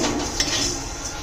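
Vermicelli (semai) frying and being stirred in a pan for jorda shemai, a steady close sizzle with a soft scrape or clink of utensil against the pan, no talking.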